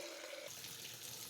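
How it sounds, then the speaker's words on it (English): Water runs steadily into a container for caustic soda and soap making, a close, continuous splashing stream with a brief tonal ring at the start. "So now we are pouring, we are getting water for our"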